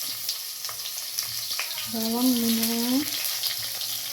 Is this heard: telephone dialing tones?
no